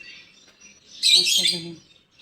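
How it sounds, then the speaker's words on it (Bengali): A bird gives a loud, harsh call lasting about half a second, close by, with faint softer chirps before and after. "তো কোন পাখিগুলো ডাকতেছে সেই পাখিগুলো দেখবেন"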